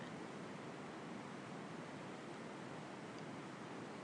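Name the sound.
flowing water at Belle Isle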